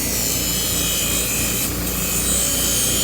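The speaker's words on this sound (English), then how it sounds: "This is a 120 grit aluminum oxide Scotch-Brite wheel." A machete edge grinds against a spinning 120 grit aluminum oxide Scotch-Brite wheel, a loud, continuous abrasive rasp over a steady motor whine.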